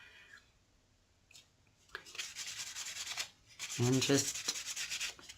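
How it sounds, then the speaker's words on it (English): A very high grit soft-touch sanding pad rubs in short, scratchy strokes over a spot on a wire wrap cabochon pendant, with a few gentle passes back and forth. Brief quiet speech comes before the rubbing. "get your soft touch sanding pad at very high grit"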